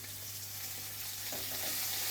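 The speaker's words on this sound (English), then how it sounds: "You should be hearing a good sizzle." Aged steak sizzles in a hot pan, a steady, quiet hiss with a low hum beneath and a slight swell of crackling toward the end.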